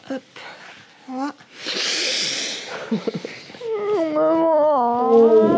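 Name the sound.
cat vocalizing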